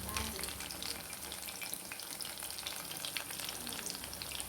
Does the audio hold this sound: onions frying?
yes